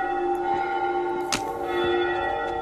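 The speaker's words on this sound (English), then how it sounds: "We're about to get bells." Church-like bells ring out in an open-world video game, a sustained metallic peal with layered tones that swells and decays, with one sharp louder strike midway, heard alone without talk.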